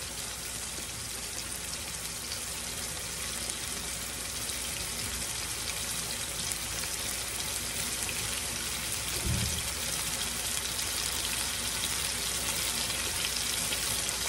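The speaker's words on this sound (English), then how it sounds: "all I'm trying to do to them is just put a little sear on them" Pork chops searing in hot grease for Cajun pork chops and rice give off a continuous, even sizzling hiss at close range, with no voices over it.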